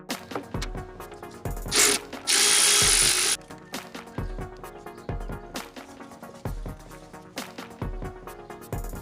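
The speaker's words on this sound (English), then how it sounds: "Then remove the 7mm bolt that holds the coil pack down." A power tool whirs in short bursts, one longer sustained run, while removing the 7mm bolt holding down the coil pack on a 2002-2010 Mercury Mountaineer 4.6L V8, with clicks and clatter of the tool between bursts.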